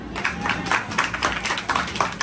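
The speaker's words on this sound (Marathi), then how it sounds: "आणि भन्नाट आयडियाने भरलेले बंटी नाना, टाळ्या." A crowd claps in a burst of applause for a team leader at a family Ganpati quiz event, the clapping dense and steady, close and fairly loud for the whole stretch.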